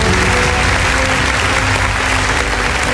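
Loud, dense applause from a school audience after a Grade 1 student performance at a student United Nations event, continuous clapping close and steady throughout with a hum of crowd noise beneath.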